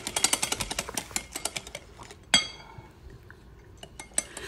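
Egg yolks being whisked in a bowl for mayonnaise, a rapid run of close metallic taps against the bowl, then a louder clank and a few scattered clicks as the pace slows.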